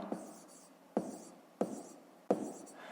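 Hand-written math notes for a fifth-grade area-unit conversion exercise: a pen or chalk scratches in four quick, separated strokes, each starting with a sharp tap and fading into a brief scrape, close and moderately quiet, with no talking.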